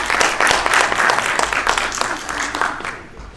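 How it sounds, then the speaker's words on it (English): Audience applause at a barbering hair show in Orlando, a dense steady clapping from a crowd that holds for several seconds and then tapers off slightly at the end. "Everybody clap it up for Sean Lahan one time."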